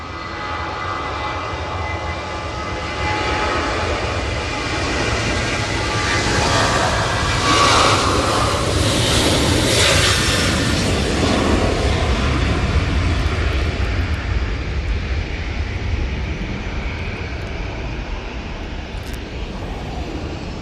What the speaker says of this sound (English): Jet2 737 now on the roll.